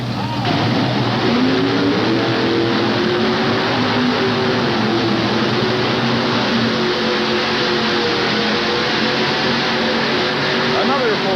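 At a 1988 TNT truck pull in Charlotte, a pulling truck's engine, Mr. Budweiser, roars and revs with a rising and wavering drone throughout, while an announcer talks over the noise.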